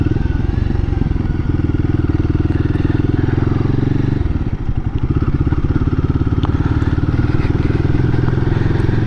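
A Royal Enfield Guerrilla 450 motorcycle rides at low revs, its engine a loud, close, chugging pulse with a rapid steady beat that stumbles briefly midway before settling back into the same labouring rhythm.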